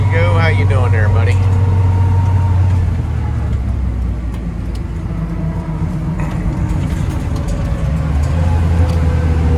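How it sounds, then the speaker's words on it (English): Heavy fuel tanker truck pulling away from an airport, a steady low engine rumble close by, with people talking over it throughout. "Got a fuel tanker leaving the airport now."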